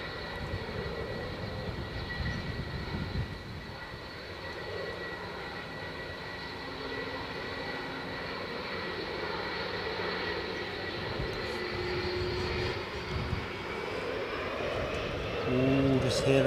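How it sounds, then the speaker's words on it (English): Rolls-Royce RB211 jet engines on an airliner at Edinburgh airport spool up with a steady, broad roar and rising whine, heard from a distance through continuous background noise while people talk over it. "just hear those RB211s feathering up"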